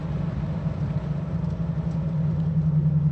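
A Mustang's motor hums steadily at close range, a low, even rumble that holds constant throughout with no voices over it.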